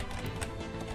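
Hooves of a horse in a video game clop in a steady run, forming a dense, even stream of beats at low volume with no talking.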